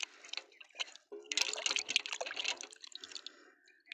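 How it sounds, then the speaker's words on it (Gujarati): Water splashes and drips close by as a toy animal is washed, with short bursts of sloshing followed by a busier stretch of splashing that trails off into scattered drips. "આને પણ આપણે સરસ પાણીમાંથી ધોઈ નાખીશું।"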